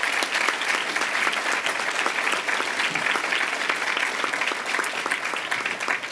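A large audience at the ATHENA Award 2015 ceremony applauds the nominees with dense, steady clapping that stays at an even, loud level from start to finish.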